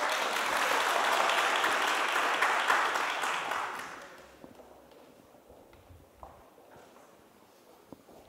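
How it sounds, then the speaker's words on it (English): Applause from a conference audience at a European Commission digital event in Riga, a dense clatter of clapping for about four seconds that fades away and leaves quiet room tone. "Applause, applause, applause."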